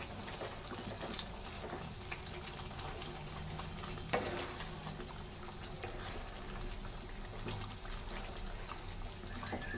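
A pot of chicken pulao with cashew paste being stirred in, giving a steady low sizzle and soft scraping and liquid stirring sounds throughout, with one brief louder clack near the middle.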